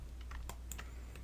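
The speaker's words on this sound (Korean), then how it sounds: "키보드 상에서 딜리트" A few separate clicks of keys on a computer keyboard, including the delete key, sounding crisp and close in a quiet room with a faint steady hum.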